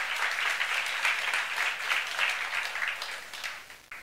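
A church congregation claps together in steady, dense applause that holds strong and then tapers off toward the end.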